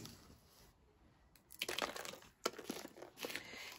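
Paper gift shred crinkling as it is tucked into a gift box with sequins, quiet at first, then a few close rustling, crunching handfuls in uneven bursts.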